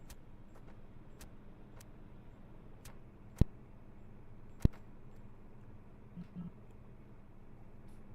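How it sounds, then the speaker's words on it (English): A faint car rumbles past in the distance, quiet and steady, with a couple of sharp clicks standing out nearby. "there was a car out there"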